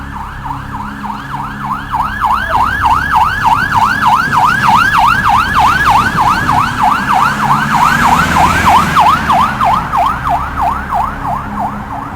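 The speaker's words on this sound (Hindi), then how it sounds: "शहर की सड़कों पर केवल पुलिस की गाड़ी सायरन बजाती घूम रही थी।" A police car's siren sounds on city streets, a loud, fast-cycling wail that repeats steadily for the whole stretch with no voices over it.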